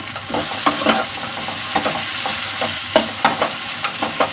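A spoon stirs MTR garam masala and coriander powder through fried rice in a sizzling frying pan, with a steady hiss broken by frequent scraping strokes, close and fairly loud, with no voices.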